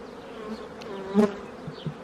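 Honey bees hum in a steady, close buzz at an open hive during a spring inspection, with individual bees droning louder as they pass near.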